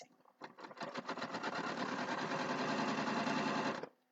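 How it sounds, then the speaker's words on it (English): A sewing machine stitches along a fabric edge in one steady run of about three seconds, starting with a few slow stitches, then a fast, even whirring hum that stops abruptly. No talking. "I'm just going to sew a decent distance so that you can see."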